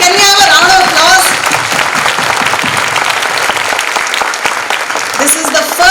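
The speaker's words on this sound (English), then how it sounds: "Can we have a round of applause?" An audience at an international economic convention at a college claps in dense, sustained applause throughout. A voice speaks briefly at the start and again near the end.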